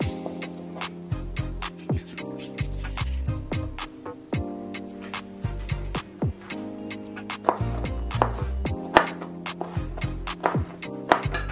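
A knife chops peppers on a board in a kitchen, with a steady series of sharp, close taps and cuts spread through the clip and no talking.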